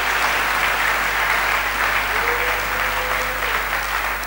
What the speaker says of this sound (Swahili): kumbi umpikie Yesu makofi.